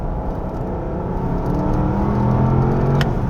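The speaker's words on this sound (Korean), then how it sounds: "엑셀레이터에 발을 살짝만 올려놔 봤어요." A Porsche Panamera e-hybrid with a dual-clutch gearbox pulls away under light throttle, a steady low engine hum and whir building gradually in loudness, heard from inside the car with no talking.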